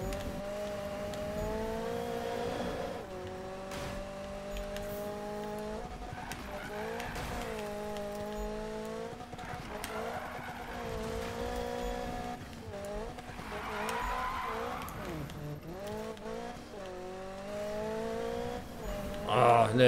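A Volkswagen Golf in a Need for Speed racing game: a steady engine drone with rising and falling revs and tyre squeal runs throughout, loud and continuous with no talk.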